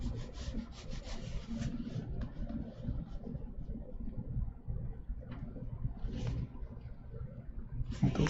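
A drawing pencil is sharpened while concept sketches of an SUV are made, giving a steady, close rasping and rubbing scrape that runs continuously with small irregular strokes and no talk.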